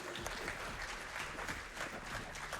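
Applause for a speedrunner after a Jedi Survivor run, a steady wash of many hands clapping at moderate level throughout.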